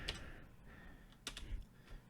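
Quick bursts of typing on a computer keyboard, a handful of faint, close key clicks in short clusters over a quiet background.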